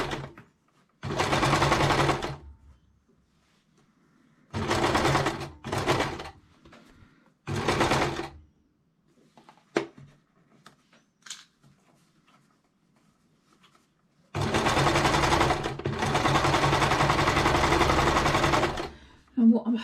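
Domestic sewing machine stitching bunting for a campervan, running in several loud bursts of rapid mechanical whirring separated by pauses with light handling clicks, the last run long and sustained.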